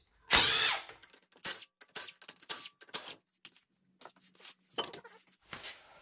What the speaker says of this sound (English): use 22 mil socket to take out all the nuts